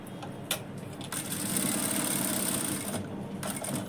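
A sewing machine stitches the lining cloth of a blouse with a steady, close mechanical whirr that runs almost the whole time, briefly broken by a couple of soft knocks near the start.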